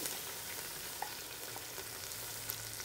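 Ginger garlic paste sizzles steadily in hot oil with mustard seeds and curry leaves in a home kitchen, a dense continuous frying hiss with occasional small pops and faint stirring scrapes, close and fairly loud with no talking.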